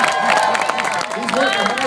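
A state fair crowd applauds an alligator wrestling show, steady clapping and cheering layered under a voice talking over the noise.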